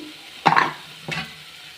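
Egg curry masala in a pan, two short soft sizzling stirs about half a second apart against a quiet background, faint and close.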